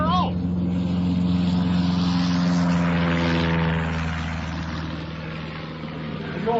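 An aeroplane in a radio drama takes off down the runway, a steady loud propeller engine drone that swells and then eases slightly, with someone speaking over it.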